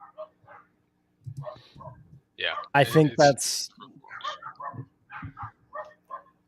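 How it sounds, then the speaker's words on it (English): A dog barks outside in short, intermittent bursts, partly buried under a casual conversation between several people. "we got some dog action"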